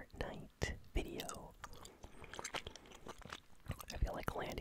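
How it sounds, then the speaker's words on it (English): Strawberry bubblegum, two pieces, chewed close to the mic with wet smacks and soft crunchy bites in an irregular rhythm, alongside quiet whispering. "So today I am chewing two delicious pieces of strawberry bubblegum."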